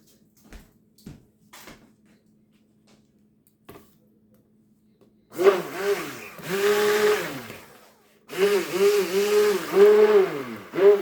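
A stick blender whirring in water as it is rinsed clean while making soap, running in two loud bursts of several seconds each after a few faint knocks and clatters.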